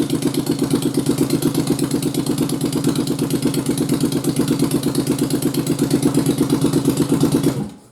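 First-generation Yamaha Virago motorcycle fitted with an xv1100 starter, cranking steadily and loudly up close in a fast, even chugging rhythm for several seconds before cutting off abruptly; no talk.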